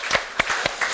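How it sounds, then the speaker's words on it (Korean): A church congregation claps in praise during a worship service, a few sharp, separate hand claps in quick, uneven succession, fairly soft and close. "하나님께 감사 영광 박수 올려드리겠습니다"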